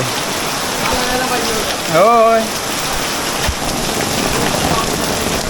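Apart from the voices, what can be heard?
heavy rain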